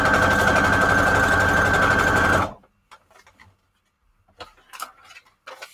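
A sewing machine runs a straight stitch on junk journal pages, a fast, even mechanical whir with a pronounced hum that stops abruptly after about two seconds, leaving faint rustles and handling sounds.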